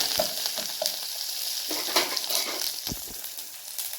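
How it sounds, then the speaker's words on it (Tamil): Curry leaves, coriander and dried red chillies sautéing in a pan for wedding-style sambar, a close crackling sizzle with a few sharp spoon taps and scrapes against the pan, no talking. "கருவேப்பிலை கொத்தமல்லி சேர்த்துக்கலாம், வரமிளகாயை சேர்த்துக்கலாம். நல்லா கொஞ்சம் வதக்கிட்டு"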